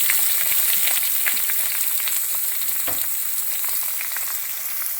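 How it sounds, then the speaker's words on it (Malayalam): Finely chopped medium onion and dried red chillies fry in hot oil, a bright, steady close sizzle with scattered crackles and a few stirring taps, no voices. "ഇനി നമുക്ക് ഒരു മീഡിയം സൈസ് സവോള ചെറുതായിട്ട് അരിഞ്ഞത് ഇട്ട് കൊടുക്കാം."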